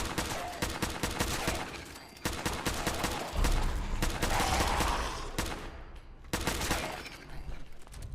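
Rapid bursts of Fallout 4 gunfire, loud and dense, with overlapping volleys and brief pauses between flurries.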